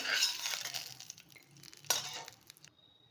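Nuts roasting in ghee in a pan for a Navaratri sweet, with scraping stirs and light clinks of a utensil against the pan, a brief sharper knock partway through, then quiet.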